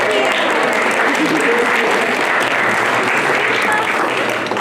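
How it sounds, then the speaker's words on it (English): A gathered crowd claps at a ribbon cutting for Heritage Woods of Batavia, a loud, continuous round of applause with voices mixed in beneath it. "Nice round of applause."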